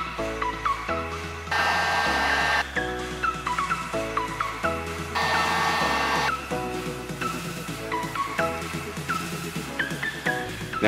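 A heat gun blows hot air to shape foam armor pieces onto a glove for an Iron Man forearm launcher, in two steady roaring bursts of about a second each over background music.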